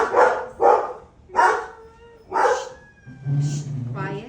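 Several puppies bark in short, sharp yelps, about four close bursts in quick succession followed by a higher whine, loud and near.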